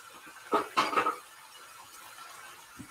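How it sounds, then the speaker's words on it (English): Onion and mushrooms dropped into a pan for Kerala-style chicken curry, giving a brief cluster of metallic clatter and scraping against the pan, then quiet. "So now we're going to chuck the onion and the mushrooms into the pan as well"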